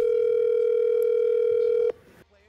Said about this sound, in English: we're looking at the phone ringing inside of his shorts right now